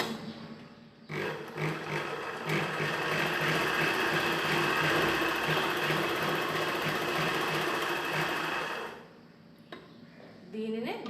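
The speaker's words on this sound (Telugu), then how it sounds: "ఇలా ముందుగా ఒక వైపున జాయిన్ చేయాలి." A sewing machine joins a strip of chudidhar pant cloth, whirring continuously and loudly for about eight seconds with a rapid rhythmic needle clatter. A brief quiet pause comes before the start, and faint handling sounds follow after the machine stops.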